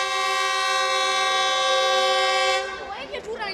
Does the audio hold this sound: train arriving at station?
yes